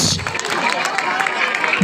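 Ping pong cricket crowd clapping and cheering after a good piece of fielding, a steady mass of claps lasting throughout, with talk and babble mixed in.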